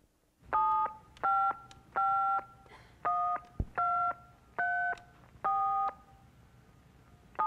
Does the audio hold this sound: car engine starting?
no